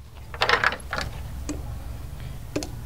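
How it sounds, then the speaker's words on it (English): A GenRight swing-out tire carrier on a Jeep JK swings open, giving a cluster of metallic clunks and ratcheting clicks followed by a couple of sharp, isolated knocks, heard close up with no talking. "The tire carrier should easily open to the stop and easily close."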